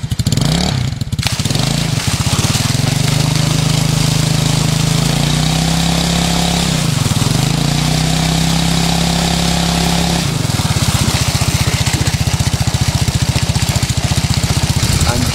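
An engine-driven water pump runs steadily and loud at close range, a chugging idle whose pitch dips and recovers a couple of times.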